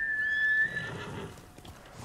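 A horse in the Ghost of Tsushima video game gives a high, drawn-out whinny, then its hooves clop closer across the ground, over a quiet game soundscape with no talking.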